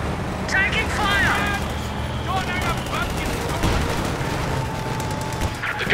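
Gunfire and explosions from the World War II strategy game Company of Heroes crackle in a dense battle mix, with shouted soldier voice lines over steady combat noise.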